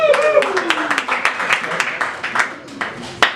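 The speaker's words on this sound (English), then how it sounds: "Clap for that." A small stand-up comedy crowd in a tavern claps in scattered, uneven bursts, with a few whoops mixed in, tapering off after a few seconds.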